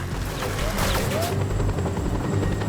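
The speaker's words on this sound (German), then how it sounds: "Ein Helikopter." A helicopter in the open-world game Just Cause 2 drones with a heavy, continuous rotor thrum, loud and close, overlaid with game sound effects and some speech in the background.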